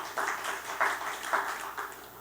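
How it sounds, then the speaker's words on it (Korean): A church congregation applauding during a Sunday worship service, a brief burst of clapping in rhythmic swells. "박수 한번 쳐드리세요."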